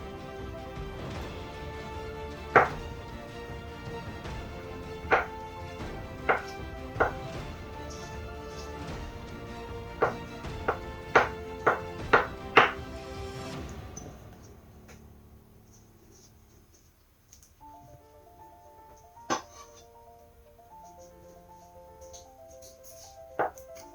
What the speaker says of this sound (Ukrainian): Все нарізаємо кубиками.